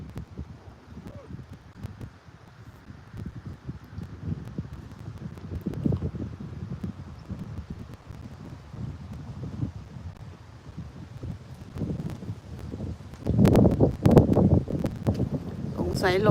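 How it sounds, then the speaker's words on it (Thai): Strong gusty wind blows steadily across a microphone at a waterside park at sunset, roaring and buffeting throughout and growing rougher near the end, with someone speaking at times. "ลมแรงแรงมากมากเลย"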